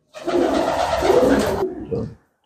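A home-bred pigeon gives one short burst of cooing close by, a throaty rumble lasting under two seconds with a brief fainter tail after it.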